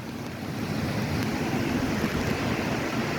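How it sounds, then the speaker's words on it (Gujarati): A rough sea surges at a very high full-moon tide on Guru Purnima, with water spilling onto a coastal road: a constant, close, rumbling roar of breaking waves, mixed with gusty wind buffeting the microphone. "ગુરુ પૂર્ણિમાની ધનાધન જોવા જેવો દરિયો આજે ગાંડો તું છે દરિયો"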